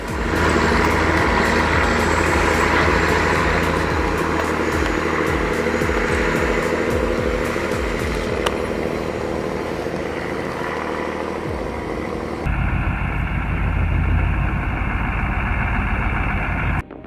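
A Peterbilt 359 diesel truck with a Cat engine idling close by, a loud steady low rumble with a rhythmic pulsing throb, then a deeper shift in tone near the end, with no talk.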